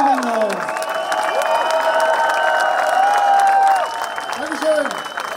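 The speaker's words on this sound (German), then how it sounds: "Deshalb einen dicken Applaus bitte für den Chef, den wir nicht haben" A large outdoor crowd at the Hanfparade cannabis rally in Berlin claps and cheers loudly and continuously, with whoops and shouts rising over the sustained applause.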